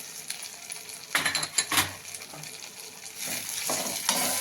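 Peanuts tipped into a hot oiled pan for wheat rava upma, a brief rattling clatter of nuts landing, then an even frying sizzle with light stirring, close and without talk.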